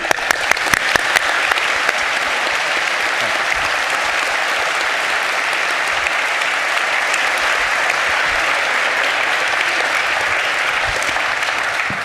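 Audience at an event honoring Mother Emanuel church clapping at length, a dense, loud, sustained wash of applause that begins with a few sharp distinct claps and stays steady for the whole stretch.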